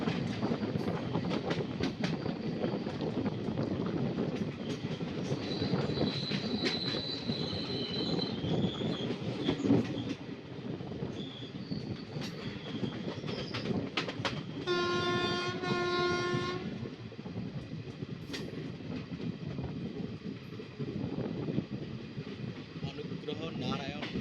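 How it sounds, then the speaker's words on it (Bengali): A passenger train rumbles steadily on the rails as heard from inside a sleeper coach on a Bihar route, with continuous wheel and carriage noise throughout, a horn sounding midway, and faint talk in the background. "খিচুড়ি ট্রেনে ট্রাভেল করছি আমি"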